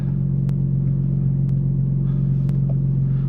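BMW M3 sedan engine idling with a steady low rumble, smooth and continuous at close range, with a few faint clicks over the drone and no distinct rev climb.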